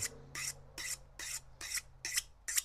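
A hand file rasps across a Stihl chainsaw chain in seven even, evenly spaced strokes, close and clear, with a faint steady hum beneath.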